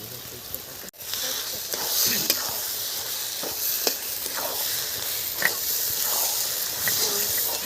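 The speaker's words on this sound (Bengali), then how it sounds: "এখন আমি দিয়ে দিচ্ছি মাংস মাংসটা দেওয়ার পরে কষতে থাকবো" Meat is sautéed in a pan with ginger, turmeric, salt, chili powder and cashew-poppy paste, giving a steady close frying hiss with scraping stir noises, while a voice talks over it.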